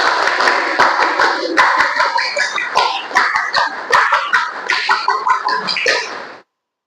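Indonesian Scout (Pramuka) group clapping performed twice over, a long loud run of syncopated multi-hand claps with quick accented bursts and some voices mixed in, ending abruptly.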